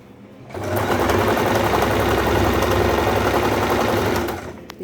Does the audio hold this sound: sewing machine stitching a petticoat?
yes